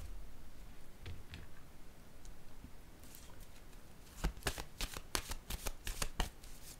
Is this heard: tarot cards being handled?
yes